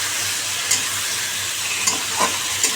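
Bengali egg curry sizzles steadily in a pan up close, a loud constant hiss with a few brief scraping stirs poking through.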